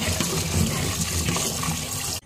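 Rice being washed in water beside a wood-fired stove, loud close sloshing and gushing of water running continuously for a couple of seconds before cutting off abruptly.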